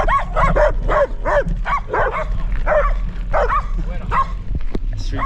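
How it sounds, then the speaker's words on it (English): Street dogs at a small roadside store in rural Mexico bark repeatedly in a rapid, excited run of yips and barks, close and loud, with a low steady hum underneath. "Street dogs are pretty feisty around here too"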